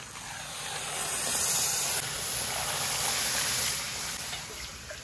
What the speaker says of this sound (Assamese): আৰু এতিয়া আমি পানী দিওঁ